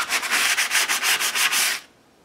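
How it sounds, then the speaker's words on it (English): Sandpaper scuffs a dried layer of acrylic paint in an altered book collage, quick rhythmic back-and-forth rubbing strokes, about a dozen close rasping passes, then stopping. "All right, the second layer of acrylic is dry. Just gonna go in here and scuff this up."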